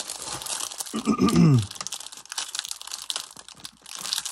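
Paper envelope is torn and peeled open close up to free a watercolour paint set, its sticky seal pulling away in crinkly, crackling rips and rustles with short pauses between.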